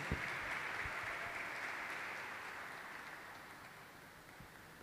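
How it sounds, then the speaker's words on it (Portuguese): Applause from an audience for a speaker at a faith event, a soft and steady wash of many hands clapping that fades gradually and sounds fairly distant. "vamos a darle fuerte el aplauso a Claudio"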